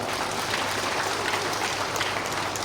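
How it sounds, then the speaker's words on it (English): An audience at a public government event gives a round of applause for a local MLA, a steady, loud wash of clapping that fills the whole moment without a break. "let's give a round of applause to your local MLA for the work that he has done."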